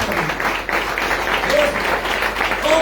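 A church congregation claps loudly through the whole stretch in a dense, steady applause, with a few faint voices under it.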